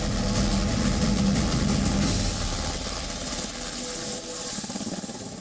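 A light combat helicopter's engine and rotors drone loudly and continuously with a steady throbbing hum, staying close and fading only slightly toward the end.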